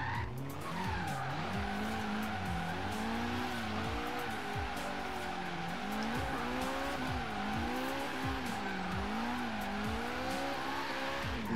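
Tires squeal in a long, continuous skid as a tuned Nissan S13 drifts at steep angle and nearly spins out in Forza Horizon 3, the engine droning and wavering beneath the screech throughout.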